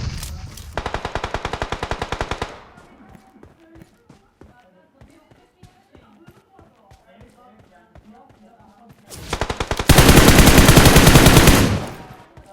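Rapid automatic gunfire in a battle royale video game, two loud sustained bursts at the start and end with quieter scattered shots and clicks in between.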